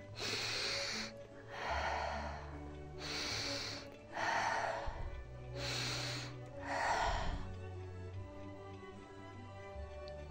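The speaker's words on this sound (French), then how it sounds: "Nous continuons avec 3 respirations profondes" Slow, deep breaths in and out, roughly three full cycles of long airy inhales and exhales, close to the microphone over a soft low background drone.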